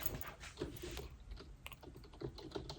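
Keys on a computer keyboard clatter in short irregular bursts, quiet and close, with scattered clicks and pauses between groups of presses.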